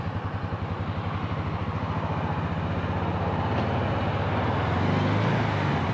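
A Can-Am Maverick 700 4x4 engine runs on a roller slip test bench in rear-wheel drive, a steady rhythmic loud throb rising slightly toward the end.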